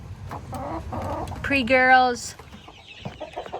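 Hens clucking up close in a short burst, with a brief high squawk partway through and a voice talking quietly underneath.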